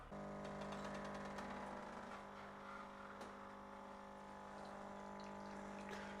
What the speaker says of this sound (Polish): Kawa niech się nalewa